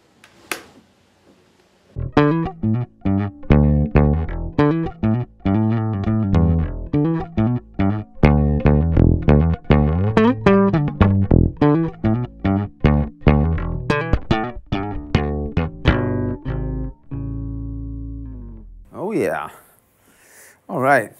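A bass guitar played dry through an Axe integrator with no EQ or effects: a steady run of plucked, punchy notes in a quick rhythm, loud and close, ending in a few sliding notes.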